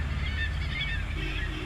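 Seagulls call with repeated harsh, honking cries at moderate distance over a constant low background rumble.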